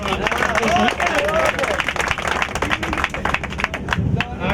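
A group of people clapping at a party on a boat on the Godavari river near Papikondalu, dense rhythmic claps filling the moment close by, mixed with crowd chatter and voices.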